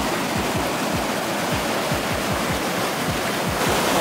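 A river flowing at Hidden Lake, Oregon, gives a loud, steady rushing wash with continuous broadband roar and rhythmic low surges, heard close by with no talking.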